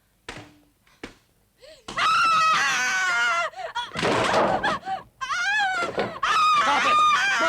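A woman screams in hysterics, long piercing shrieks that rise and break repeatedly over several seconds after a few quiet thuds, loud and close, with bursts of other frantic vocal noise between cries in a tense night scene.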